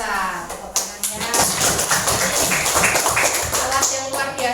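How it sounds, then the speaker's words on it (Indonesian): Schoolchildren in a classroom break into close, lively clapping that rises after a moment and carries on steadily, with a voice speaking over it at the start and the end. "Tepuk tangannya."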